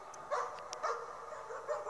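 Small dog barks and yips in the horror video game Layers of Fear, a few short, moderately faint barks spaced across the moment.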